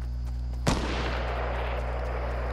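A single sniper rifle shot in Fortnite cracks sharply and is followed by a rolling, fading echo, all over a steady low background hum.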